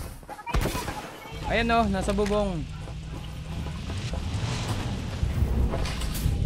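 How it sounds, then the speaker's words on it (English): Fireworks boom and crackle in a sustained barrage in the Farlight 84 battle royale game, while a voice speaks over the opening moments. "Looks like they've got some fireworks planned!"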